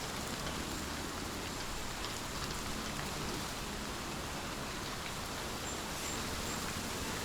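Steady rain in the video game Hellblade, a dense, even hiss of falling drops that holds at the same level throughout, heard alone without voices.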